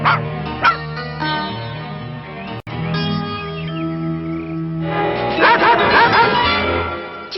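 A cartoon dog barks, yips and whimpers loudly in repeated bursts over a musical soundtrack, with a sustained whining stretch near the end.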